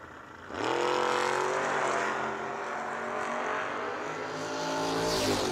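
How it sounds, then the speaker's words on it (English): A pair of Chevy Camaros, one a 1978 model, launch hard at a drag strip with a sudden loud roar. Engines scream up through rising pitch and hold a sustained, powerful drone as they run down the track. "Michael Newman, left side of the track, 78 Chevy Camaro, dialed 999"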